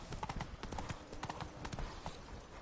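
Roach, a horse in The Witcher 3: Blood & Wine, gallops with fast, rhythmic hoofbeats, close and continuous throughout.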